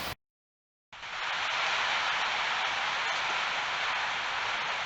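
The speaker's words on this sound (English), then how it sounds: "Sorry if you can hear the rain in the background." Rain falls outside, a steady soft hiss after a brief gap of silence, continuous and even throughout with no talk.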